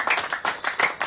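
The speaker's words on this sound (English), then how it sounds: "a round of applause for Aimiga." Brief burst of audience clapping at a cocktail reception, distinct individual claps in a quick irregular rhythm, close and fairly loud.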